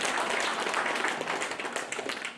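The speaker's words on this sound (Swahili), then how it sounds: "Hũrĩrai mũthuri witũ baba witũ makofi" A gathering claps for a respected elder at a Kenyan event, a dense steady applause that stays loud and close throughout before easing slightly at the end.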